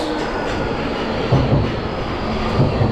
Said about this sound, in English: Here comes my metro, my tube, whatever you want to call it.